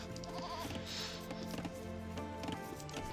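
Several short sheep bleats over a busy background of clicks and taps, fairly quiet and mixed with other game sounds, in Age of Empires II DE.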